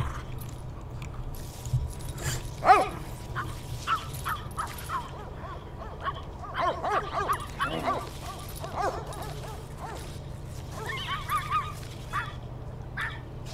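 Virtual dogs in The Sims 3 Pets bark in repeated yips and woofs over a steady low game hum, loudest near the start, then scattered barking continuing throughout.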